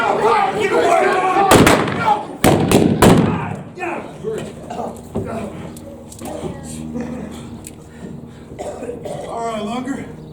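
Several loud gunshots at a live Wild West gunfight show in Tombstone, Arizona, a quick cluster of sharp bangs early on, with shouting actors talking throughout.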